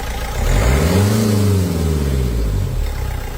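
A car engine under repair for a misfiring injector is revved up close in a workshop, a single rising and falling roar that settles into a steady rough idle.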